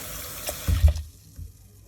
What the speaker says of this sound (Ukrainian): Тепер промиваємо огірочки під проточною водою гарно промиваємо